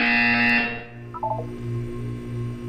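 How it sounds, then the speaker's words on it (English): A loud electronic buzzer tone from the video game Portal 2 sounds once and cuts off, followed by a short descending beep sequence over a low steady hum. "You will hear a buzzer."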